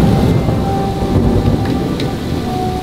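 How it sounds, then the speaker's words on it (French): Heavy rain pours steadily with loud rumbling thunder, a dense continuous downpour heard from shelter under a tree, with no voices. "Regardez comment là il est en train de pleuvoir sa grand-mère."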